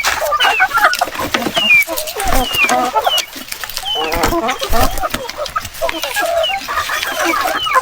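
Native heritage chickens cluck and chirp in a busy, continuous stream of short calls, with farmyard background noise and people talking over them.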